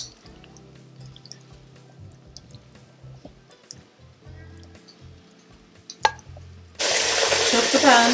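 Water drips and trickles into a pan, then a tap opens to a steady loud rush of running water near the end.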